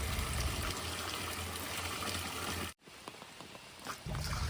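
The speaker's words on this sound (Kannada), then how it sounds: "ಸುಣ್ಣ ಚೆನ್ನಾಗಿ ಬೆಂದ ಮೇಲೆ ನೀರು ಹಾಕಿ ಕರೆಸ್ಕೊಂಡು ನಾವು ಡ್ರಮ್ಮಿಗೆ ಹುಯ್ತಾ ಇದ್ದೀವಿ" Slaked lime water for a Bordeaux mixture splashes steadily as it is poured into a drum, breaks off briefly, then trickles and gushes again.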